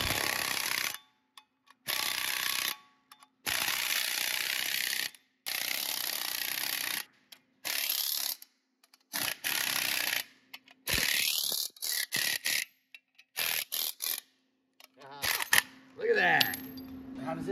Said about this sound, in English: Now, as I spin the bolt, the bearing splitter is acting like the nut, and it's being sucked up